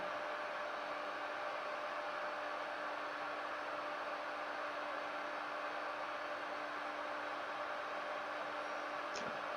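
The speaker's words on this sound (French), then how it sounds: "Les ombrages au décapeur thermique sont assez rapides à mettre en place." A heat gun blows hot air for stencil shading around a central cutout, giving a steady, even broadband roar that holds unchanged throughout with no pauses.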